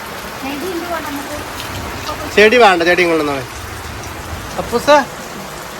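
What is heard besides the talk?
heavy rain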